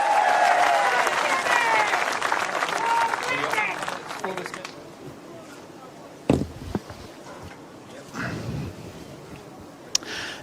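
Audience applause at the 2016 World Bowls Championship singles final, greeting a New Zealand finalist at his introduction; loud dense clapping with cheering for about four seconds, then fading to a murmuring crowd with a few sharp knocks.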